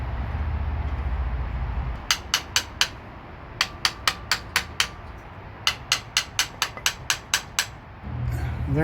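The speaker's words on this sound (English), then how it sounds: "Using a hammer is probably not the best practice," Hammer tapping fuel injectors into the intake manifold of a 2001 Honda Accord, sharp metallic taps in quick bursts of three to seven, close and clear over a low background hum and brief talk.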